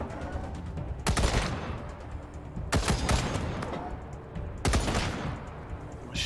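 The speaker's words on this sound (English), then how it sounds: "Machine turret's doing some work." Bursts of machine turret gunfire in Wasteland 3, three loud rattling volleys spaced a couple of seconds apart over a steady rumble of battle noise.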